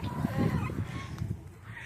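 Columbian Wyandotte chickens cluck and squawk on a homestead, a close cluster of throaty fowl calls over soft background noise.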